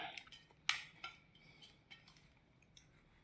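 Sesame seeds and jaggery being mixed by hand for kachariyu, giving a few sharp utensil clinks and scraping taps, one louder knock near the start and then softer scattered clatter, fairly close, with no voices.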